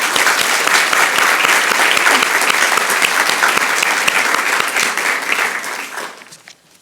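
Loud, sustained applause from an audience at a school prize-giving ceremony, dense clapping holding steady for several seconds before fading out at the end.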